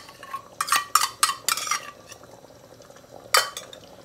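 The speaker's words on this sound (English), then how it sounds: "And give it a stir" Natural yogurt stirred into a simmering curry sauce in a pot, a handful of short, bright scraping strokes of a utensil against the pot, close by, with a pause before one final stir.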